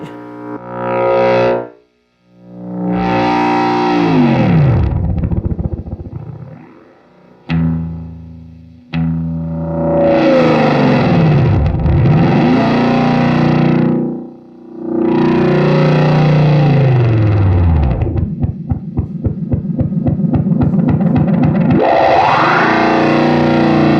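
A vintage DOD Delay 585 pedal runs away into self-oscillation at a long delay time, distorted repeating tones swelling and sweeping in pitch, with brief dropouts between loud bursts and a fluttering stutter near the end.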